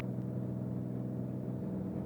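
Beechcraft Bonanza piston engine during a climb, a steady droning hum with a layered tonal buzz, heard from inside the cockpit, close and continuous without talk.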